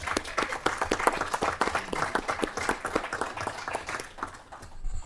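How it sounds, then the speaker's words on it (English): Visiting students from a school are applauded in a state House committee hearing room, a short burst of hand clapping with clear individual claps that tapers off near the end. "everyone give them a round of applause"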